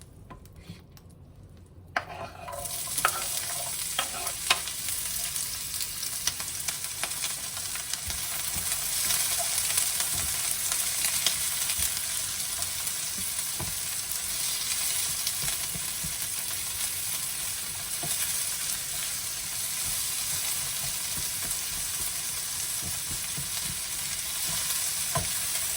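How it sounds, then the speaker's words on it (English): Vegetables sweat in oil in a skillet with a steady, close hiss that starts abruptly after a quiet second or two and holds level, broken by occasional light scrapes of stirring. "Added a little oil to the skillet so we can sweat our vegetables."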